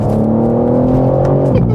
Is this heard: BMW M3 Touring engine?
yes